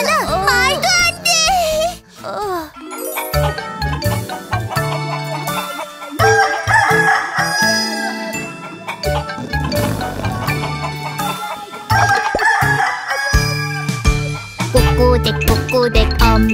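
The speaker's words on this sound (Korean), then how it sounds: "그게 여긴 닭장이잖아." A rooster crows and chickens cluck in a cartoon chicken coop, loud and upfront, over bright children's music with chiming accents.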